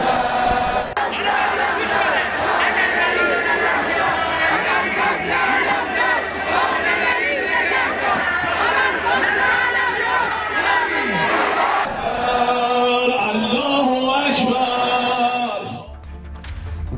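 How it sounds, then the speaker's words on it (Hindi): A massive street crowd in Iran chants slogans in support of Khamenei, a loud, continuous roar of massed voices with rhythmic shouting that shifts to a different chant near the end. "लोग यहां पर सड़कों पर आ गए और खामनेई जिंदाबाद के नारे लगा रहे हैं"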